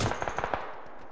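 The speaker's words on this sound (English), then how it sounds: "They're shooting us from the hill." Rapid automatic gunfire in PUBG: Battlegrounds, a quick burst of about eight sharp shots in the first half second, moderately loud, then fading into a quiet tail; no talking.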